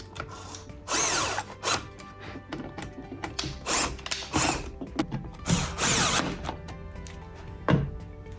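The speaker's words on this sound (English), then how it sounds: "all we're going to do is screw our fittings in" A cordless drill drives screws for flap fittings into a cabinet, in short repeated whirring bursts with ratcheting clicks and pauses between, close up.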